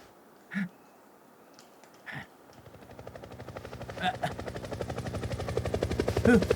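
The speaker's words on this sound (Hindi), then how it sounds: "हेलीकॉप्टर!" A helicopter's rotor chop rises steadily from near silence to a loud rhythmic thudding as it approaches, after a couple of brief sounds.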